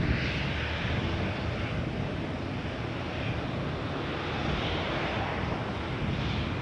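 An Air Canada Rouge Airbus A319 bound for Miami from Toronto Pearson gives off a loud, steady jet roar, broad and unbroken throughout, with no talk.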